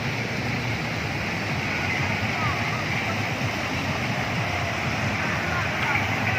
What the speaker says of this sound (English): this water is flowing over here in Assam, India, Bodoland, and this river is coming from the Bhutan